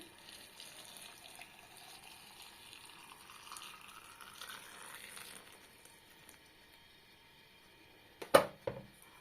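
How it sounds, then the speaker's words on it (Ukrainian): Boiling water poured from a kettle into glass jars packed with tomatoes for winter preserving, a faint steady stream rising in pitch as the jars fill, ending with a short clink. "наші баночки ми заливаємо окропом, який ми злили і закип'ятили"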